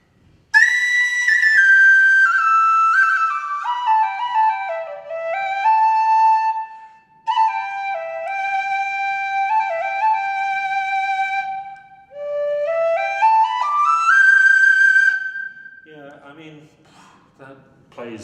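A tin whistle with the same mouthpiece as a Chieftain whistle plays a bright, clear melody alone, with long held notes and quick runs, broken by two short pauses and ending in a few low scattered tones.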